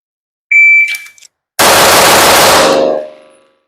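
Sig P211 GTO pistol firing: a short electronic beep comes first, then a burst of very loud, close shots running together into a dense roar that quickly fades out.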